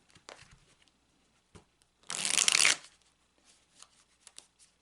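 Tarot cards riffle-shuffled in one loud, dense burst lasting under a second, framed by quieter taps and slides of the deck being handled nearby.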